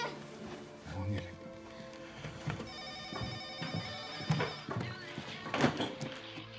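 A telephone rings indoors over background music in a movie scene, with ringing bursts and soft thunks spread across the passage; no one speaks during it.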